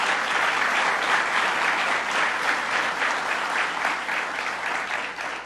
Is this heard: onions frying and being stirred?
no